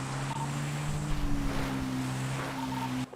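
A motorbike engine in a GTA roleplay game hums as a steady, continuous drone for several seconds, with a faint whistle-like tone at times and no talk.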